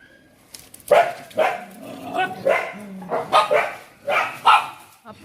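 Street dogs bark in a loud, close burst of repeated barks and yips, about eight sharp calls spaced irregularly over a few seconds.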